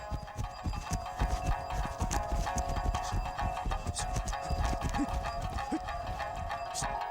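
Horse hooves clip-clopping in a steady rhythm on a mountain trail, fairly close, mixed with background ambience and a faint whinny-like tone.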